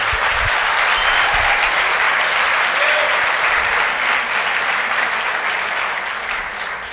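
Loud, sustained applause from a church congregation fills the space as dense continuous clapping, tapering slightly toward the end.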